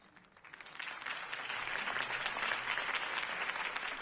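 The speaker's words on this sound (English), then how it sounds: "If only Mr. Wayne, my campaign's largest backer, could have heard that applause" Crowd applause inside Batman: The Telltale Series, a rally audience clapping after a campaign speech for Harvey Dent; dense, steady clapping swells in and holds loud and even throughout.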